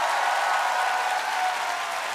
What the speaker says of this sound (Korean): 여러분 박수 주세요.